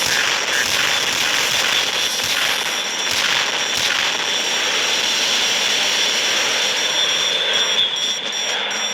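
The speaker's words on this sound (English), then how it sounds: "5th generation stealth category fighter jet with massive speed, double engine." A J-20 twin-engine stealth fighter jet gives a loud, continuous roar that holds steady and close throughout, with crackling bursts in the noise.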